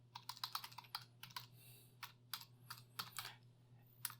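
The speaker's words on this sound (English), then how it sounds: "So I'm going to go ahead and type that again." Typing on a computer keyboard while entering a command, quick bursts of crisp close key clicks in an irregular rhythm with short pauses between, alone and fairly quiet.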